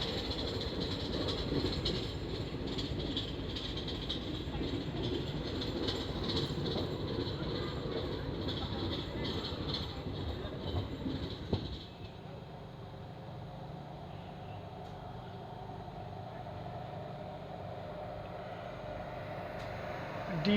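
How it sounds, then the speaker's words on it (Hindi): Koyna Express train running as the Kolhapur–Mumbai Koyna Express crosses it, a loud rolling rumble with rail clatter that drops to a quieter steady drone partway through. "यहाँ पे हमारे ट्रेन की क्रॉसिंग होने वाली है 11030 कोल्हापुर मुंबई"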